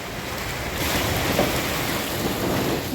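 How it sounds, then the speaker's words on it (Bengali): Heavy rain pours down in a dense, continuous roar during a violent storm with lightning in the Sundarbans, with a deep rumble underneath like wind and distant thunder. "ঘরে চলে আসার পরপর প্রবল ঝড় আর বৃষ্টি একসঙ্গে হচ্ছে"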